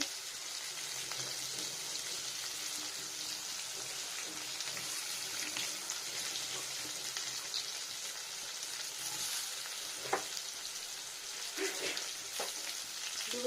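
Ghee frying in a pan for vegetarian raw banana kofta gives off a soft, steady sizzle with occasional faint pops and stirs, heard close but quietly, with no talking.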